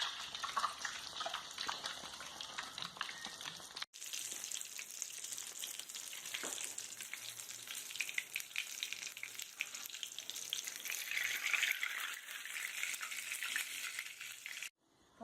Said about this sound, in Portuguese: colocamos as rabanadas para fritar.